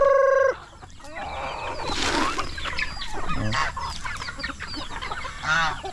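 Chickens cluck and squawk in bursts, several birds close by, with a sharp cackle midway and a brief high tone at the start.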